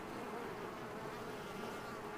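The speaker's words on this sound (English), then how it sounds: "the few bees that are still out flying around" A few honey bees left from a captured swarm fly around, making a faint, even buzzing drone that holds steady throughout.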